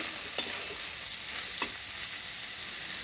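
Snake gourd and egg bhaji frying in a pan with a steady soft sizzle, broken by two brief scraping stirs of a spatula near the start and middle.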